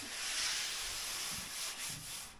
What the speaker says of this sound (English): that's sanded down to a 60 grit right now